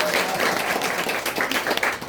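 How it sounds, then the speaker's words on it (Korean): Short burst of audience applause at a business presentation, brisk clapping from a gathered crowd lasting about two seconds. "박수 한번 쳐주세요"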